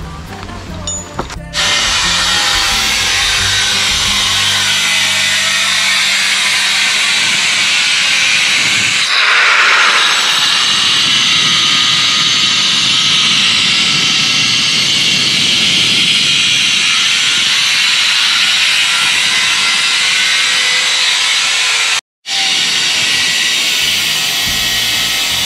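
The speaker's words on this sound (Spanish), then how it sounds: "la galletera, cuando ustedes lo hagan, tiene que ser con protección y con manilla" An angle grinder with a guard and side handle cuts into stone, giving a loud, sustained high-pitched whine with gritty hiss that shifts in tone midway and breaks off briefly near the end before resuming.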